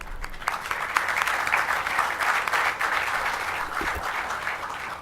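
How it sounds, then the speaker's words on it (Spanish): Applause from a workshop audience welcoming a speaker, a steady dense patter of many hands clapping at moderate distance for about five seconds with no talk over it. "Recibamos con un fuerte aplauso a la doctora Marta Guadalupe López Guerrero."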